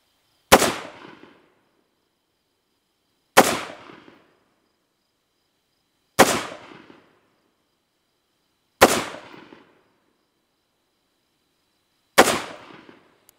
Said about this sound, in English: he's gonna fire 5 shots on target